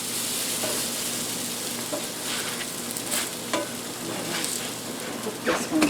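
Cinnamon-coated brioche French toast sizzles steadily in a Ninja Foodi Neverstick pan, a continuous close frying hiss broken by a few soft utensil scrapes and taps as slices are moved and flipped.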